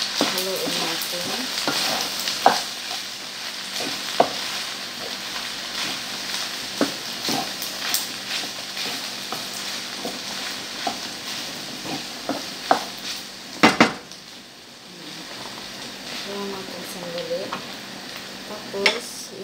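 Pasta tossed with pesto sauce in a hot pan, a spoon scraping and clacking in irregular strokes over a soft sizzle, with a brief lull partway through.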